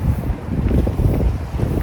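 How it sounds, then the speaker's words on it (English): Fierce wind blows hard across a microphone at an outdoor tarp shelter setup, giving a loud, low, gusting rumble that buffets continuously with no talk. "it's just so windy today."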